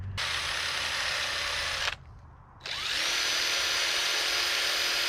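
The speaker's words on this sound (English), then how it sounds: "once you hit it with the wire wheel, then you brake clean it" A drill-mounted wire wheel whirs loudly at high speed while cleaning NGK spark plugs, stopping briefly in a short quiet gap before spinning back up and running steadily again.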